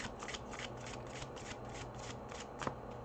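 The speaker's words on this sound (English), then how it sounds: "I always throw cards everywhere, even when I'm shuffling." Cards being shuffled by hand, a steady rustling riffle with rhythmic flutters and a sharp snap near the end, close and alone.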